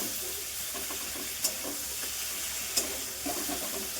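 Spice paste ingredients frying over high heat in a pan, a constant close sizzle and hiss with soft scraping stirs, plus two brief sharp clinks of a utensil against the pan.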